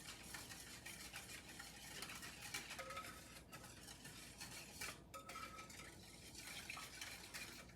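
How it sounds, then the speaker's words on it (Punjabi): Grape barfi mixture with about three-quarters of a cup of sugar is stirred by hand before cooking, making soft, faint, continuous scraping and light clinks of a spoon against the vessel, with no speech. "ਇਹ ਵਿੱਚ ਚੰਗੀ ਤਰ੍ਹਾਂ ਆਪਾਂ ਮਿਕਸ ਕਰ ਦੇਣੀ ਹੈ"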